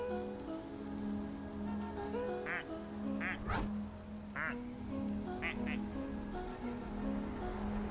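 Squeaky plastic toy duck quacks come in several short bursts over a steady, rain-like background hiss, with brief clatter in between.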